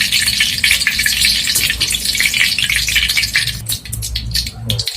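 Salted fish frying in hot oil, a loud dense crackling sizzle with bursts of spattering and a brief clatter near the end, close up and with no talk.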